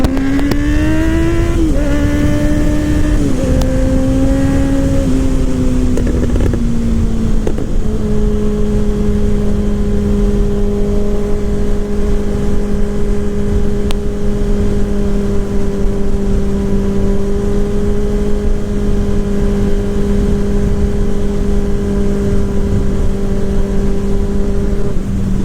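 A 2024 Kawasaki motorcycle running a Moore Mafia ECU flash tune is ridden at speed. Its engine drone is loud and steady, and the revs drop early on before settling into a long constant cruise.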